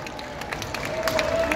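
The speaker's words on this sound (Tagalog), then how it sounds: "bigyan po natin ng masigabong palakpak si Ednel Magtibay ng SBS Filipino" An audience at a Filipino gathering applauds SBS Filipino's Ednel Magtibay, a brief burst of moderate, scattered clapping mixed with faint crowd murmur.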